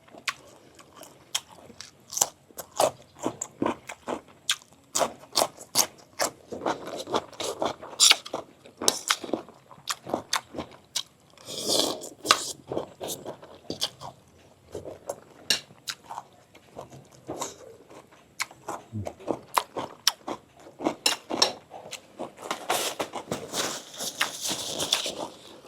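Someone bites and chews crispy fried sun-dried tilapia up close, producing loud, rapid crunches in dense irregular bursts that continue throughout, with no talking.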